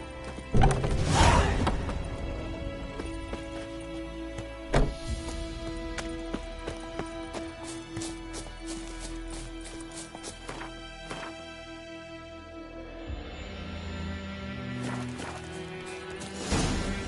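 Roach, a horse in The Witcher 3: Wild Hunt, clip-clops with hooves in a steady rhythm, mid-distance and fairly quiet. A whinny comes near the start, along with other faint game sounds.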